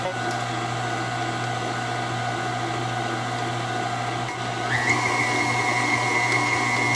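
An electric mixer runs steadily through cheesecake batter as eggs are beaten in for a New York style cheesecake, a continuous motor whine with a shift to a higher pitch partway through, close and alone without talk.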